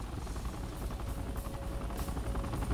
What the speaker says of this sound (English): Get those choppers in the air.